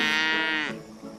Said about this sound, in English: This year on the ranch, the Doans have calved over 500 young cattle.